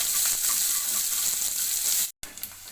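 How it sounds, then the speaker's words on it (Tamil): Chopped onion and curry leaves sauté in a pan with a bright, steady sizzle that cuts off abruptly near the end, then returns in faint bursts. "ஒரு வெங்காயம் கட் பண்ணி நல்லா மிக்ஸ் பண்ணி விடணும் நல்லா வதக்கிக்கணும்"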